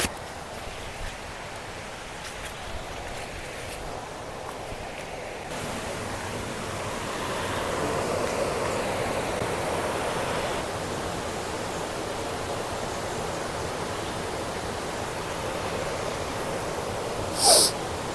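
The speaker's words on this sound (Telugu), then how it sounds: "మనం సరియా వాటర్ ఫాల్స్ ఫస్ట్ స్టేజ్లో అయితే ఉన్నాము. ఇదిగోండి ఈ వాటర్ ఫాల్స్." Sariya waterfall near Devarapalli, Visakhapatnam, a continuous roaring rush of falling water that swells slightly midway and holds steady, with a brief sharp knock near the end and no talking.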